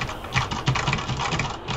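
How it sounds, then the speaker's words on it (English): Rapid keystrokes on a computer keyboard, a steady patter of close clicks typed alongside a flight simulator game. "Got to add in the typing noises."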